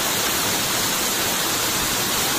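Rukmal waterfall along the Deduruoya-Bulathkopitiya road near Dedugala, roaring as a steady, dense wash of falling water that fills the whole clip without a break.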